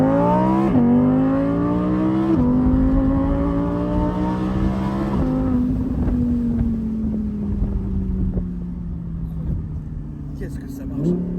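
An Audi R8 convertible accelerates hard on the road, its engine climbing through gears with rising revs and shift breaks, loud and close with wind rush, while a voice talks over it.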